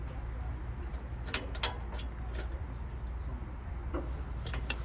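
Pressure adjustment screw on a VMAC G30 compressor being turned clockwise by hand, giving faint intermittent metallic ticks and clicks over a low steady machine hum.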